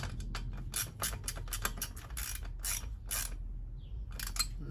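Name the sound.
tightening cold air intake filter clamp on Honda Civic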